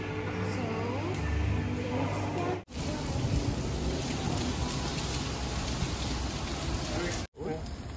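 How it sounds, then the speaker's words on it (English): Steady rain falls in Singapore, a dense, even hiss that fills the whole stretch with two brief cut-outs, and faint low voices murmur beneath it at the start. "It's raining, right?"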